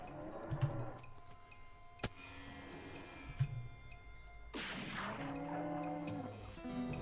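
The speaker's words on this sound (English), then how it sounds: "Psycho cow." A cow moos in the video game West of Loathing, one long, loud, wavering low call that fills the second half, after a couple of soft thumps and a sharp click over a game background.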